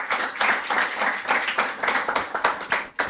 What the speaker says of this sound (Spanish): Dele un aplauso, papito Dios